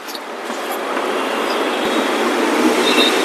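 Bangalore metro train running, a steady rolling roar with hissing air and rumble that slowly builds in loudness throughout, close and continuous with no talk.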